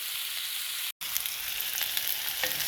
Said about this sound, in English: I'm just going to fry this up in stages